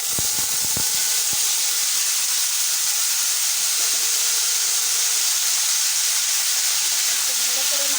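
Olives dropped into hot oil tempered with five-spice and two dried red chillies for a chutney, a loud constant hiss and sizzle after a few sharp clatters at the start, no talking.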